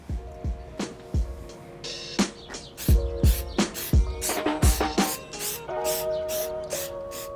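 Rejuvenator water and stain repellent are sprayed onto a dyed suede shoe outdoors in quick, repeated hissing bursts from a spray bottle, with trigger clicks and birds faintly in the background.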